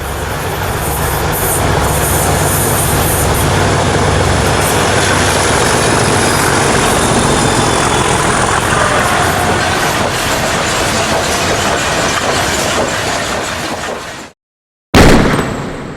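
Two British Class 37 diesel locomotives hauling a 2,000-tonne loaded MGR coal train in South Wales: loud, continuous engine roar with rumbling wagons and clattering wheels, sustained throughout before a brief cut.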